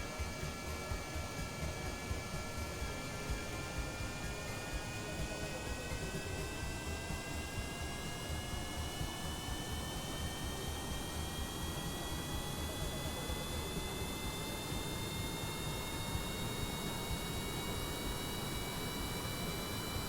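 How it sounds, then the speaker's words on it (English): Spacecraft jet engines running in reverse thrust in Kerbal Space Program, a steady broadband roar with rising whining tones, loud and continuous throughout with no talking. "Switch this into reverse thrust."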